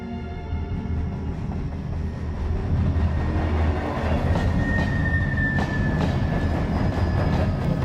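A train rolls past in a steady, continuous rumble with rail and wheel noise, a brief metallic squeal rising midway, loud and close throughout with no talking.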